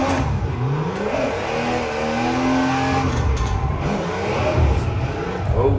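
A Mark II car in a racing simulator game revs hard as it drifts out of the pit, its engine note rising and falling with faint tire squeal, loud and continuous with no talk.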